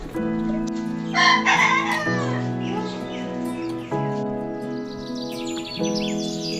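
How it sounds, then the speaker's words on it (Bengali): Newly brought chickens for a small farm zoo cluck close by while a rooster crows loudly several times in repeated calls, with other bird sounds mixed in. "নতুন মুরগি পালার জন্য নিয়ে আসলাম।"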